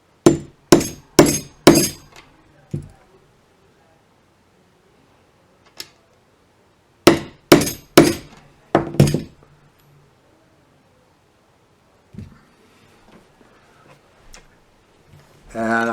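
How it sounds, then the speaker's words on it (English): A socket struck with a hammer to seat a tuning peg on a banjo, heard as two sharp groups of about five close, ringing metallic taps separated by silence, followed by a few fainter knocks. "I'm going to use the socket that fits over that, so I'll be hitting directly on the body rather than the knob"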